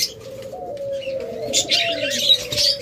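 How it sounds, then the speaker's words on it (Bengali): A large group of caged budgerigars at a bird seller's chirps in bright, high, overlapping calls over a lower steady drawn-out tone, close and fairly loud throughout. "আমাদের কাছে রয়েছে অসংখ্য পরিমাণ বাজরিকার পাখি"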